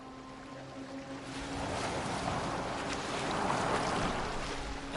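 A Viking longship glides over open water in Assassin's Creed Valhalla, hull washing and splashing through waves in a continuous swelling rush with wind, building louder toward the end, no voices.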